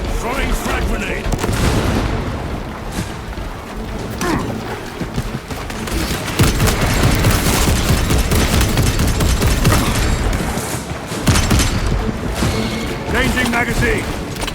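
Continuous, dense battle din from Warhammer 40,000: Space Marine 2 fills the scene as a frag grenade is thrown and bursts among rumbling explosions and gunfire, with voices audible throughout.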